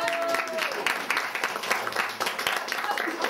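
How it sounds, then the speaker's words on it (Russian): An audience at a Harry Potter–themed DozoR team game in Tolyatti breaks into dense, steady clapping for a few seconds, with voices mixed in. "Аплодисменты, друзья"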